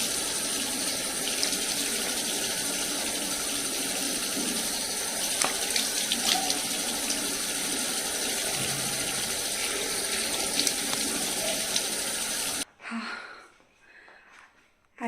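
A tap runs steadily into a sink while Holi colours are washed off a face, a continuous close hiss and splash of water lasting about twelve seconds before it stops abruptly, leaving a few quiet handling noises.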